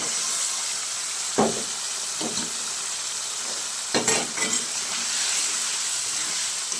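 Soaked potatoes fry in a cooked-down spice paste in a pan for a paneer curry, giving a constant sizzling hiss. Several distinct scraping stirs cut through the frying noise.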